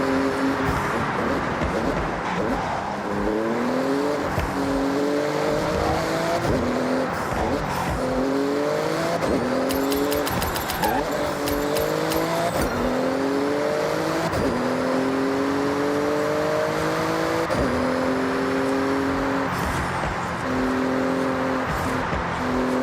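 A Porsche accelerates hard through a speed zone in the racing game Forza Horizon, its engine climbing repeatedly through the gears with steady rising whines and quick shift drops, loud and continuous.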